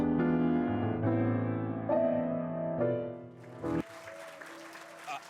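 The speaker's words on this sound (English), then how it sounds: "let's give a huge round of applause to this phenomenal woman" Loud sustained music with tonal chords fades out and gives way to scattered applause from an audience at a women's forum.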